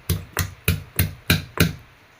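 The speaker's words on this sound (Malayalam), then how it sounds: "അടുത്ത് ചുവന്നുള്ളി ഇടിക്കാം." Shallots are pounded for a chayote tamarind ginger curry in six evenly spaced, heavy thumps, loud and close with a steady beat, and no one speaks.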